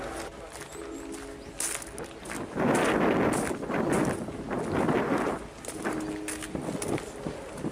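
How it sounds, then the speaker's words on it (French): Gusty wind in Japan buffets the microphone in strong surges that swell and fade, with quieter rustling stretches between the blasts. "Dommage qu'il y ait beaucoup de vent"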